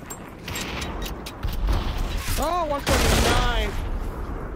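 Rapid bursts of gunfire ring out in the VR battle royale game Population: One, a loud continuous crackle of shots with a player talking over it partway through.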